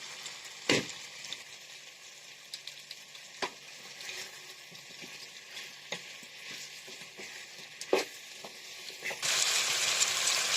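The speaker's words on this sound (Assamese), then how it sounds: "কোমোৰাখিনি আৰু ক্যাপসিকামখিনি দি মই অলপ দেৰি ভাজিম।" Local chicken frying in a pan over medium-low flame with pumpkin and capsicum, a steady soft sizzle broken by occasional clacks of stirring, growing louder near the end, with no voices.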